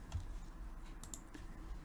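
Keys clatter on a computer keyboard as R commands are entered for a statistics task, a short run of quiet, close clicks with no speech.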